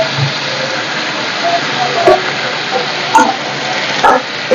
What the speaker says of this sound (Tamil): இதுல வந்து நல்லா சால்ட் சேர்த்து வதக்குன்னு வதக்க வேண்டியதுதான்